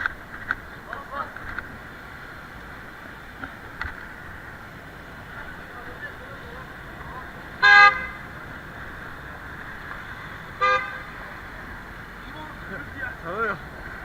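Two short car horn honks from a passing car in traffic on a forest road, one near 8 seconds and another near 11, standing out briefly over steady engine and road noise with people talking inside the vehicle.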